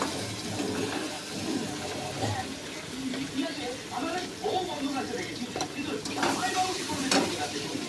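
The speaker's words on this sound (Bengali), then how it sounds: "কড়াইতে আমি পেঁয়াজটাকে ছেড়ে দিলাম, তারপরে লাল লাল করে ভেজে নিলাম পেঁয়াজটাকে" Onions fry in a pan with salt, turmeric and chili, a steady close sizzle broken by scraping and stirring clatter throughout.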